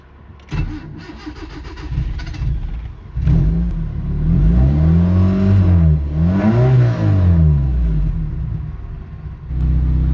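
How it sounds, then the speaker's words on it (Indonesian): A Timor GTI 1600 cc fuel-injected car engine cranks and starts, then runs loudly nearby, revving up and down in two swells before settling into a steady idle. "Kita langsung aja cek mesin ini."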